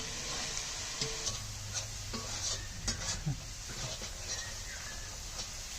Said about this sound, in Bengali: মশলাটাকে সুন্দর করে পুরো মাংসটাতে মাখিয়ে নেব